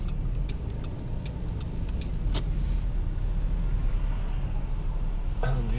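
A car moving along a road during a driving lesson gives a steady, loud engine and road rumble with cabin noise and faint ticking, heard from inside the vehicle.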